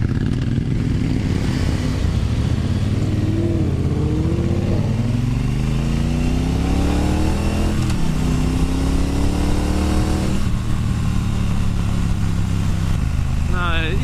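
A Triumph Bonneville Bobber with a 1200cc engine being ridden, its low engine note rising and falling through several gear changes, loud and close throughout with wind noise and a rider talking over it.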